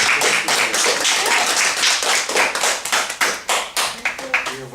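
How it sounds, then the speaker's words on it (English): Audience applause for a team at an acting event, a dense burst of many hands clapping that thins toward the end into scattered, distinct claps. "make an applause for our team and me"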